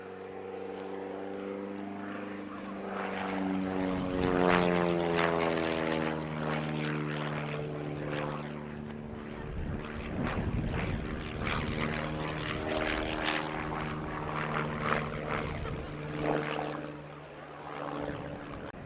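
de Havilland Chipmunk propeller trainer flying at an airshow: a steady piston-engine drone with a propeller buzz that sweeps in pitch as the small plane passes, moderately distant and continuous, no talk.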